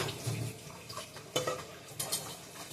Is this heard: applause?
no